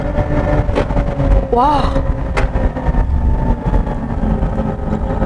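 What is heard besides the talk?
Hyundai Ioniq 5 N driving a long slalom course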